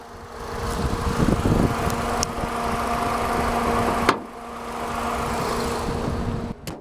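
A 2013 Nissan Sentra SR's 1.8-liter four-cylinder engine with variable valve timing idles close by, a steady mid-pitched hum with a faint rhythmic knock, briefly interrupted by a sharp click partway through before the drone continues evenly.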